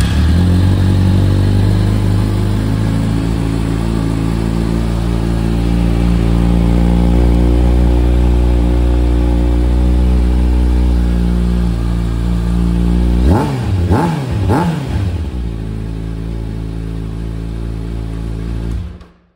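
A 2023 Kawasaki ZX-6R KRT ABS sport bike with baffles fitted starts up and idles loudly and steadily, then three sharp throttle revs climb and fall back near the end before the engine cuts off.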